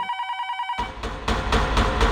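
A telephone rings in an Indian crime drama scene, a steady repeating electronic bell tone for under a second, after which the ringing gives way to louder room noise and rhythmic pulses.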